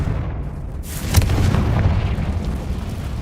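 A Confringo fire spell cast in the Hogwarts Legacy game bursts with a loud booming blast over a continuous rumbling background, followed by a sustained low roar.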